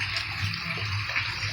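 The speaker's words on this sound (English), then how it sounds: "This building's about 80 feet long and water running off of it." Rainwater pours steadily off the back edge of a roughly 80-foot-long building roof with no gutters, a continuous close splashing rush.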